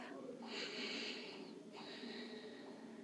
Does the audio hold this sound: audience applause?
no